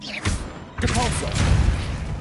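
A Depulso spell fires in Hogwarts Legacy, set in a catacomb: two broad whooshing thumps, the second longer and sustained, with a voice briefly heard in between.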